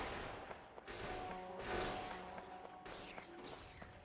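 Turrets in Factorio fire at attacking biters in faint, rapid bursts of shots that run on and off throughout.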